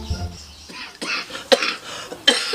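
A few short, harsh coughing bursts spaced about half a second apart, close by, after a brief low murmur at the start.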